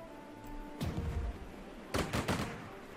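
Anti-tank gun fire in the strategy game Strategic Mind, set at the Battle of Taipale: a heavy boom near one second, then a pair of sharp shots around two seconds, fairly loud over a low rumbling battlefield bed.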